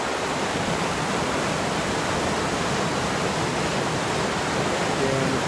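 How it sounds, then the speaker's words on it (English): Rushing creek water swollen by snowmelt along the Baker Lake eastside trail, a steady, dense, unbroken roar close by that fills the whole stretch with no pauses. "It's beautiful creek, especially during melt-off."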